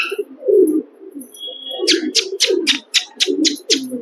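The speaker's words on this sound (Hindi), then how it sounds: "ये भाई एक कबूतर और नीचे आ चुका है, ललसरा चेन्नई वाली नस्ल" A Lalsara Chennai breed pigeon coos low and close in soft repeated phrases, mixed with a run of bright rhythmic chirps from small birds, with no voices.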